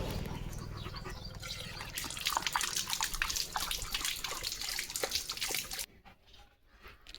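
Rapid wet lapping of a German Shepherd drinking water, a quick steady rhythm close up that stops abruptly near the end.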